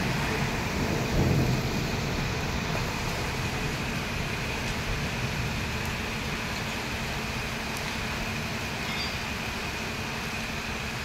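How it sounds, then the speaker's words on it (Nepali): Heavy rain pours down steadily and loudly, with a low rumble of thunder swelling near the start before settling back into a dense, continuous downpour. "ओइ अहिले त झन् कत्रो ठुलो पानी पर्यो। आकाश पनि कराउँदैछ गुरुङ गुरुङ गुरुङ गुरुङ गुरुङ"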